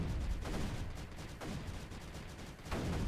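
Cannons and mortars fire in Creeper World 3, a dense rumble of repeated thuds and bursts overlapping into a constant low barrage, with a few stronger hits standing out near the start, middle and end.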